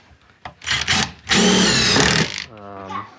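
Power drill whirring in a few short bursts and one longer run as screws are driven into pre-drilled holes in an I-beam sawhorse, close and loud, ending in a winding-down tone.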